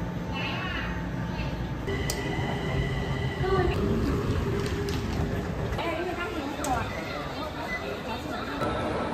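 A Kaohsiung MRT orange line train runs from Ecological District toward Formosa Boulevard station with a steady rumbling ride, whining tones and brief beeps, while people talk nearby throughout.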